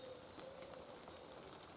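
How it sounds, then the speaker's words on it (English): Light rain falling in woodland, a faint, steady patter of drops with a soft hiss throughout and a brief thin bird call near the start, distant and quiet with no voices. "You can hear the rains has actually slowed down a bit."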